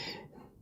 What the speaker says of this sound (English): I'm so sorry if the mic is too loud, my cough.